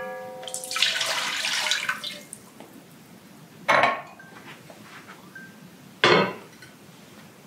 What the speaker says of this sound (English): Pour that in our pot.